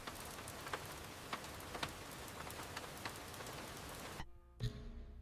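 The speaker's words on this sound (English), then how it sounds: "Rain continues tapping against the windows." Rain taps steadily against the windows of a quiet countryside kitchen, a dense, even patter with scattered sharper drops. It stays constant and close, then briefly cuts out near the end before resuming.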